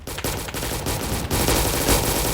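Rapid automatic gunfire in the Roblox shooter game Recoil, loud dense bursts of machine-gun fire with brief gaps, continuing steadily and close with no talking.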